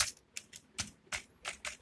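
Several distinct, crisp keystrokes on a computer keyboard are spaced unevenly, as when HTML list code is typed. The clicks are close and fairly quiet, with short gaps between them and no speech.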